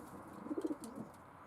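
A racing pigeon coos once in the widowhood cock section of a loft: a brief, soft, close, throaty burble of a few pulses, with no one talking.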